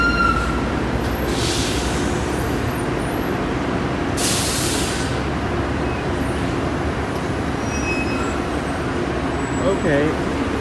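Road traffic at Los Angeles International Airport: a constant loud rumble of cars and buses nearby, cut by two sharp hissing bursts like air brakes releasing.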